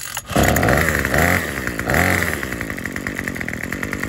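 A Bolens BL160 string trimmer's small two-stroke engine runs loud and close just after starting, revving up twice in strong bursts and then settling into a steady, buzzy idle.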